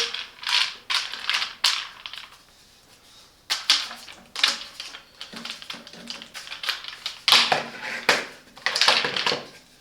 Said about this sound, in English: you can connect the grabs nozzle for tight spaces and corners